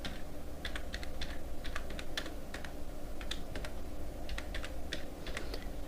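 Quick irregular keystrokes tap on a computer keyboard as a name is typed into an account form, clustered clicks over a quiet room hum with no talking.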